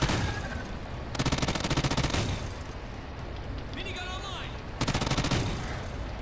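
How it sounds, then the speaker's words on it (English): Rapid Gatling-gun bursts from the Reaper's arm weapon in a video game, two dense rattling volleys of sustained fire over a steady noisy background, with a whirring mechanical sweep between them. "it's the arm of the Reaper. He like it turns into a Gatling gun."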